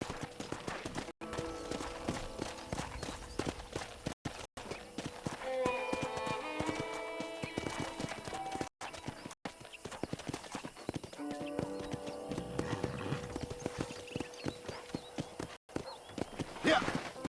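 Horse hooves clip-clop steadily as a rider travels at a walk in Red Dead Redemption, with music and other game sounds playing throughout.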